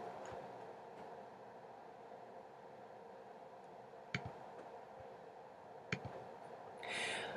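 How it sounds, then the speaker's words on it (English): A single sharp mouse click on a search button, heard faintly over a steady low room hum, followed by a second click a moment later. "So then click search."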